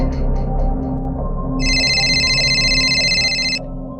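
Telephone ringing with an incoming call in a Hindi audio story, an electronic two-tone ring that repeats steadily for about two seconds over a low, murky background ambience.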